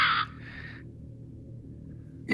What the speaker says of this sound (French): Toujours ces corbeaux.